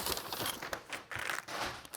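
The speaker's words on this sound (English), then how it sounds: "And let's start opening up this plastic bag." Plastic packaging bag from an iPod Shuffle unboxing crinkles and rustles continuously as it is opened close by, with brief pauses between handling bursts and no talking.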